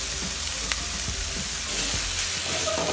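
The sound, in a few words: leeks frying and being sautéed in a pan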